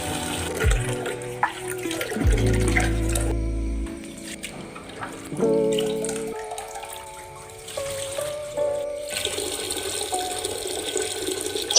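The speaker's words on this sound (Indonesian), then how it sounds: "Buang air rendaman dan bilas kembali hingga bersih." Soaked soybeans for tempeh are rinsed under running water, with tap flow, splashing and dribbling that rise and fall in several bursts, clinks of beans and a container, and a low hum in the background.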